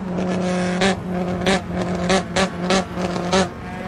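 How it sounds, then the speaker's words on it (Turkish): Engine noise from a race car in Assetto Corsa, loud and steady, with a low engine drone and several sharp revving bursts at irregular intervals. "Oğlum bas bakayım bir egzozu."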